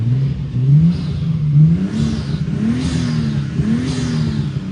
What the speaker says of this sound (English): Huge misfire.